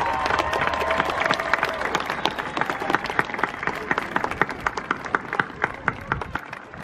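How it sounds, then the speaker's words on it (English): A crowd applauds high school graduates at an Antelope Valley Union High School District graduation, steady dense clapping that carries on for several seconds with some louder individual claps standing out near the end. "Let's give them all a round of applause."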